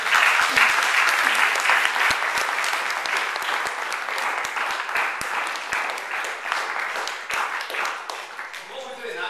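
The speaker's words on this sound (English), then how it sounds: "So I'd like to big round of applause for Mark." A taekwondo club's fifteenth birthday party crowd breaks into a loud, sustained round of clapping that holds steady for the full length and begins thinning near the end.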